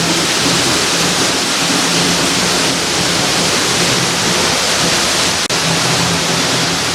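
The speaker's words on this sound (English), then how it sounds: "It's just a little bit of water, but it's hitting a piece of tin down there." Water dripping and splashing onto a piece of tin deep in a mine decline, a dense, continuous rushing patter that sounds much heavier than it is, steady and close with no talk.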